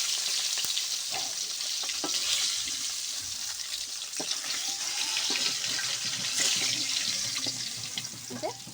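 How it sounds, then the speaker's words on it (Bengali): Pieces of bata fish frying in hot oil, a continuous crackling sizzle with occasional sharp pops and utensil clinks, steady and close throughout. "সুন্দর করে মাছটা আমি ভেজে নিচ্ছি লাল লাল করে।"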